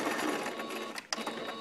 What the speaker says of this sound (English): you're gonna wanna start sewing